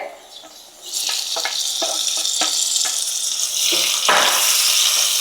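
Onion and tomato fry in a pan for Kolhapuri chicken sukka. After a quiet start, a bright, steady sizzle rises close by, with a few stirring taps and a louder hiss near the end.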